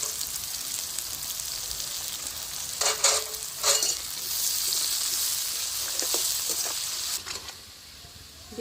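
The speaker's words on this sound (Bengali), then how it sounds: "বিনসটা ভাজা হয়ে গেছে" Carrots and beans stir-frying with salt in a pan, a close bright sizzle with several spatula scrapes and tosses, slightly quieter toward the end, no voices.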